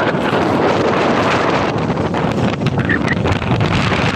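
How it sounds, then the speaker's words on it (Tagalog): Strong, steady gusts of wind roar and buffet the microphone along the Manila Bay shoreline after a typhoon, with rough sea water churning underneath; loud and continuous throughout, with no voices. "Sa ngayon, grabe ang lakas pa rin ng hangin."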